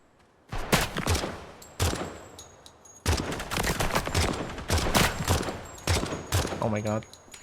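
Bursts of automatic gunfire in a video game, loud and close, coming in several separate volleys with short gaps, some with a sharp ringing tail, and a brief voice near the end.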